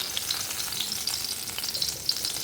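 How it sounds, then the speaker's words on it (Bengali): Pumpkin pieces fry in a pan with a close, steady sizzle and crackle of hot oil, with no voices. "কুমড়ো ভাজা হয়ে গেছে দেখো"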